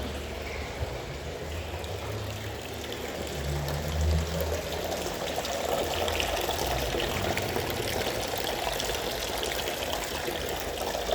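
Water bubbles and streams steadily inside a 16-metre-deep mineral spring in Bad Nauheim, a constant close rushing and gurgling with no voices.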